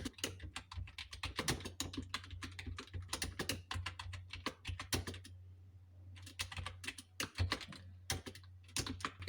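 Steady typing of Hindi home-row practice on a computer keyboard, many close, crisp keystrokes in rapid irregular runs with a brief pause midway, and no voice.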